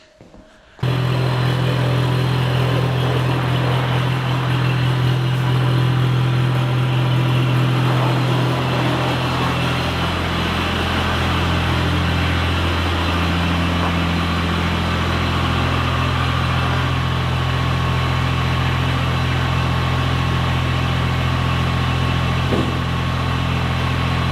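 A Kubota BX2680 compact tractor's small engine runs steadily and loudly for the whole stretch, a constant low idling rumble after a brief quiet start.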